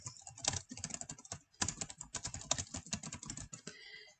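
Rapid typing on a computer keyboard, close and clear, with irregular bursts of key clicks and a brief pause partway through.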